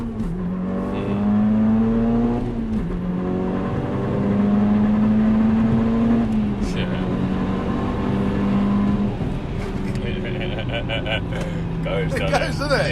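A 550bhp four-wheel-drive Skoda Octavia vRS accelerates hard from inside the cabin, its engine droning and rising steadily through the gears with brief dips at shifts, loud and continuous.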